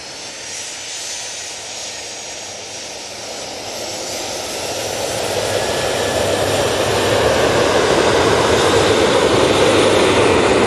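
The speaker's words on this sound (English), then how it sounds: "this Ryanair 737-800 is off to Dubrovnik" A Ryanair Boeing 737-800 jet takes off at Manchester Airport, its broadband engine roar building steadily louder and fuller over about ten seconds, with a faint high whine riding on top and no voices.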